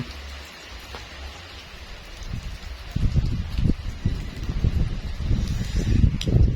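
Rain falls steadily outside a hut during a storm, a soft patter that swells into a denser, louder downpour partway through, with no voices.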